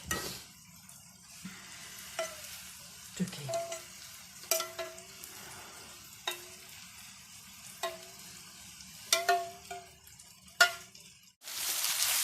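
Spiced stuffed dried pepper filling and sauce fry quietly in a pan, a soft low sizzle punctuated by repeated clinks and scrapes of a stirring utensil against the pan.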